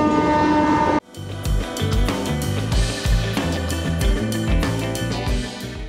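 A train rumbles past up close, heavy rhythmic clattering of wheels over rail joints after a loud horn-like tone cuts off abruptly.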